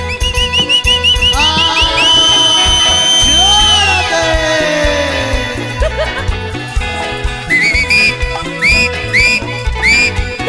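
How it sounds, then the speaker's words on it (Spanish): A referee's whistle at a lively party with dance music, repeated shrill blasts and trilling sweeps riding over a loud pounding beat, with a sustained run early and short bursts near the end. "El silbato, silbato."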